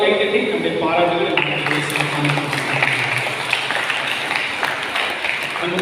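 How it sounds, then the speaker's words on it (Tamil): Audience clapping at a church festival, continuous applause with people talking over it. "ஆகவே புதிய பொறுப்பாளர் கைத்தட்டி நம்முடைய பாராட்டுகளை"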